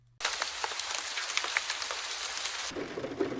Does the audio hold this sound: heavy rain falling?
yes